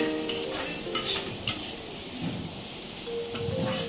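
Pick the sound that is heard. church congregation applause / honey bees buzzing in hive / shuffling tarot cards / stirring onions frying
stirring onions frying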